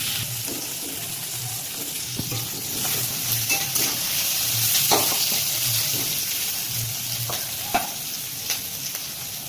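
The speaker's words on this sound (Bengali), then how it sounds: "পেঁয়াজটা একটু লাল লাল করে একটু ভেজে নেবো, বেরেস্তা বানিয়ে নেবো।" Sliced onions fry in hot oil in a pan until browned into birista for chicken biryani, a loud continuous sizzle up close with regular stirring scrapes and clinks throughout.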